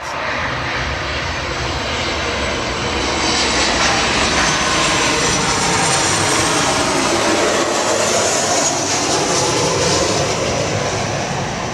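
Velocity jet airliner from Sydney at Gold Coast Airport, giving a loud, steady, broadband engine roar that swells slightly and holds throughout, with no talk.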